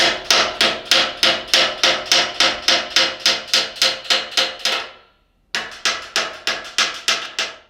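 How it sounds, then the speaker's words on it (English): A rawhide hammer taps a valve inner casing into its outer casing on a brass instrument: rapid, even knocks in a steady rhythm, a brief pause, then more taps, close and crisp with no talking. "with a hammer, rawhide hammer or a canvas hammer like this, I prefer to use the Furries tool hammer as it's a very nice hammer to use with instruments"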